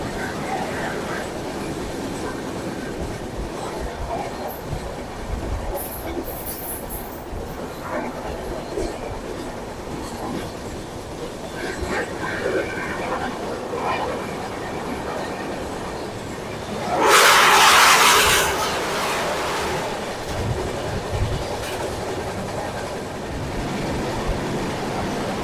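Amritsar Intercity Express running on the rails in India, with a steady rumble and clickety-clack throughout and a loud whooshing surge as another train crosses past close by partway through.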